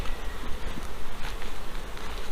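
A dense, loud swarm of honeybees buzzes nonstop right up close just after being shaken from a hive box into another box.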